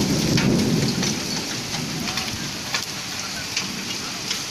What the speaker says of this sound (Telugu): గాలి కూడా లేచింది ఫుల్ గాలి వర్షం.